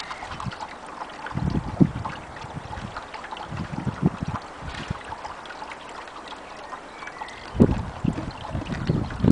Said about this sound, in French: on va continuer à verser l'ensemble du seau